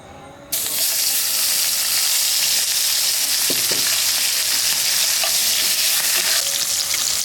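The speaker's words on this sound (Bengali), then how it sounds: "তেলটা গরম হয়েছে, ইলিশ মাছের মাথাটাকে ভেজে নেব" A hilsa fish head drops into hot white cooking oil and bursts into loud, steady sizzling that holds evenly from start to finish, with a few faint clinks of utensils and no speech.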